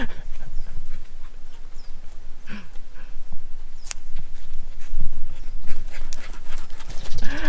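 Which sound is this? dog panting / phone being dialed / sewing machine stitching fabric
dog panting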